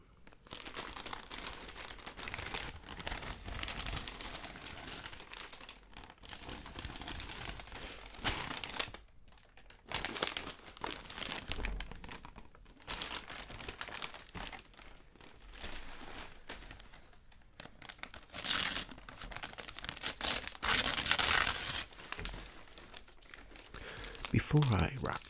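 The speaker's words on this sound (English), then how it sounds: "I've decided to use non-branded wrapping paper, sort of miscellaneous" Non-branded, miscellaneous gift wrapping paper crinkles and rustles close to the mic in repeated bursts with short pauses. Brief soft speech sits among the paper sounds in a quiet, intimate Christmas-themed setting.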